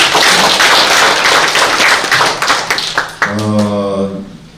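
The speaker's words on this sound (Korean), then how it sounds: "박수" An audience claps at a political debate forum in Daegu, a dense burst of applause that thins into scattered claps and fades, with voices joining near the end.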